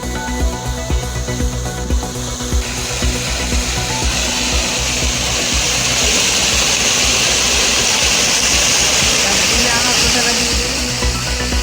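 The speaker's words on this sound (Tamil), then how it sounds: "பதினைந்து மீட்டர் உயரத்திற்கு பீச்சி அடித்த தண்ணீர்" Water and gas gush fifteen metres high from a 500-foot borewell in India. A loud, continuous roaring hiss swells in after a short start and holds steady to the end.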